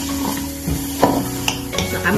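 Onions and minced garlic sizzle in hot oil while a utensil stirs them, with scraping knocks against the pan over a continuous frying hiss.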